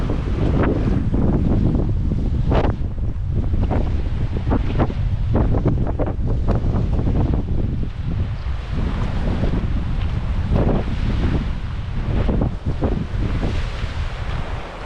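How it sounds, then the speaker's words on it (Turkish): Strong wind roars and buffets the microphone without a break, with the rush of surf and sea beneath it, at a seaside campsite in Turkey. No voices. "Çok rüzgarlı."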